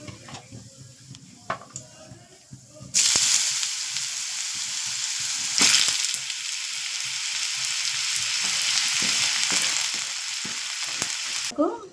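Radish pieces hitting hot oil in a pan with dried chili, bursting into a loud steady sizzle after a few quiet clatters, with occasional stirring knocks over the continuous frying hiss.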